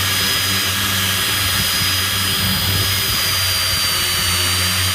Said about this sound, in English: I'm going to open up this hole here with a countersink bit to give myself a bit more surface area.